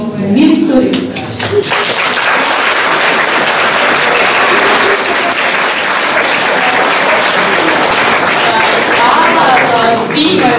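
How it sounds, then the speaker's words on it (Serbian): Sustained audience applause fills a room at a children's art exhibition marking a creative workshop's fifth anniversary, steady dense clapping from start to finish with some voices mixed in. "I svakako bih voljela, ako možete, da pozdravite aplauzom i Milicu Ristić."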